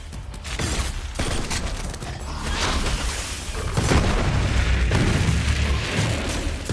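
Gunfire in Borderlands 3 on PS5 comes as a dense, continuous barrage of booms and mechanical rattles, loud and sustained throughout, with a heavier rumbling stretch in the second half.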